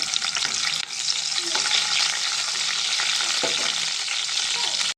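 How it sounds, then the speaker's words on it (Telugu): Loud, continuous sizzle of dried red chilies, garlic, cumin and mustard seeds frying in hot oil, close up and dense, with occasional stirring clicks and no voices. "ఎండు మిరగాయలు ఎల్లుల్లిపాయలు జీలకర్ర ఆవాలు ఆయిల్ వేడైందండి ఇవి దీంట్లో తీసుకుందాం బాగా ఫ్రై అవ్వాలి"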